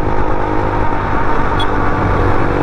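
A Suzuki Burgman scooter engine runs close and loud, a steady droning hum with a rough, pulsing low rumble throughout and no talking.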